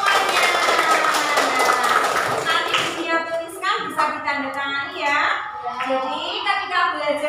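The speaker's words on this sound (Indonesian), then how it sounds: "Oke, tepuk tangan semuanya." A class of fifth-grade children claps together in a classroom, a brief burst of scattered hand claps that fades into children's chatter and an adult voice speaking.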